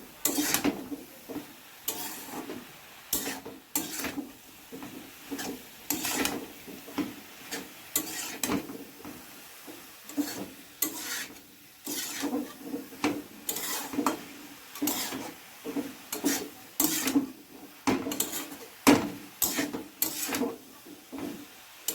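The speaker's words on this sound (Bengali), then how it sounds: "এখন ভালো করে নেড়ে ছেড়ে হলুদটাকে ওটার সঙ্গে মাখাবে।" A spoon stirs turmeric into food in a pot at home, giving repeated close scraping and knocking strokes in an uneven rhythm with a faint sizzle underneath, and no talking.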